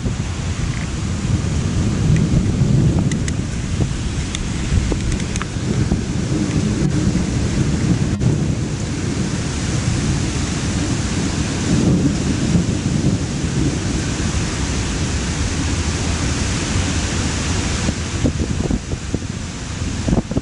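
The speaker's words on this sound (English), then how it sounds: "Heading right into the storm." A thunderstorm over a creek roars continuously, with heavy rain and gusting wind buffeting the microphone, low rumbling thunder rolling underneath and a few sharper cracks, loud and enveloping.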